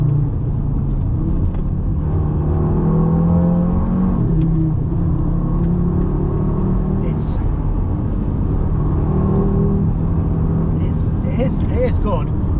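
A 2020 400hp Audi RSQ3 Vorsprung engine revs and pulls through manual shifts, its tone rising and falling with each gear change. It stays steady under nearby talk in the cabin.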